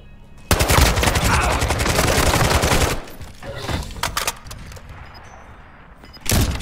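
Loud, rapid gunfire from Call of Duty Modern Warfare 2 in a sustained burst of nearly three seconds. Scattered quieter shots follow, then a final loud burst at the end.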